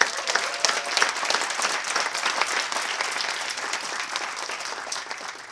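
An audience applauds at an honoring ceremony with a sustained, even round of many hands clapping. It fades slightly toward the end and is heard alone, without talk.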